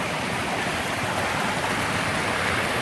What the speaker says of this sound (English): Natural waterfalls.